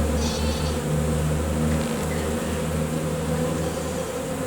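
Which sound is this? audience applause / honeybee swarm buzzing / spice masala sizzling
honeybee swarm buzzing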